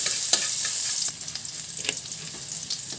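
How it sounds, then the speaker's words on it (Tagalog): Garlic sautéing in hot cooking oil for pork giniling, a steady close sizzle and crackle with brief stirring scrapes; the frying hiss drops noticeably partway through and continues more softly. "Gisa na natin ng bawang."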